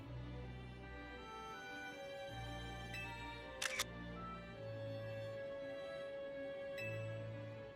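A single sharp camera shutter click from the video game Pokémon Legends Z-A, heard once midway over steady game background music, with no talking.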